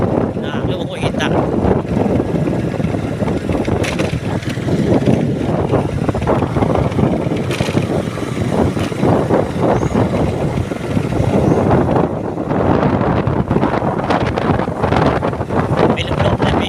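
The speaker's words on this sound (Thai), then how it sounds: "ลมแล้วก็ร้อนเลยวันนี้อากาศลมร้อน" Hot wind blows hard at the entrance to a reservoir, a loud, steady rumbling buffet on the microphone with gusts throughout, and people talk faintly beneath it.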